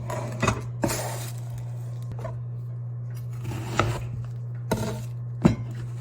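A kitchen knife cuts meat and onion on a cutting board in a few sharp, separate chops and knocks, with a steady low hum underneath and no speech.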